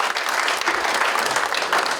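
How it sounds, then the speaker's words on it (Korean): Steady applause from an audience in an auditorium fills the whole stretch, dense and continuous clapping with no voices over it, at a formal ceremony. "최원철 공주시장님의 축사 큰 박수로 청해 듣도록 하겠습니다"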